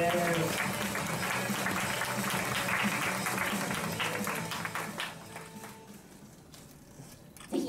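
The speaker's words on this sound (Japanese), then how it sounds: "皆さん拍手でお迎えください。" A crowd claps steadily for several seconds at a PUBG Mobile launch event, the applause thinning out toward the end, with some background voices mixed in.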